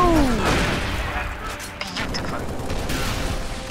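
DMR rifle gunfire in a video game, a burst of loud, sharp shots with crashing impacts close up, followed by rapid firing under the din of combat.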